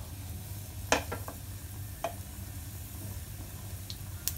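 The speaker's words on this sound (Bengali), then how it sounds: "এবার ফোড়ন একটু আমি ফ্রাই করে নিচ্ছি" Whole spices tempering in hot oil in a pan with a pinch of asafoetida for dal fry, a soft steady sizzle broken by a few sharp clicks and knocks of a spoon stirring against the pan.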